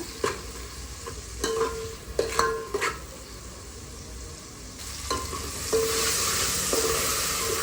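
Onion and tomato with salt sauté in a pan for black spiced chicken, sizzling steadily. A spoon scrapes and stirs against the pan in a few sharp bursts, close up, with no talking.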